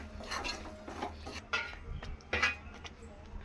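Chili powder being stirred into raw mango pieces for a North Karnataka mango pickle: a spoon scrapes and clinks against a metal bowl in uneven bursts of rubbing and tapping, close by.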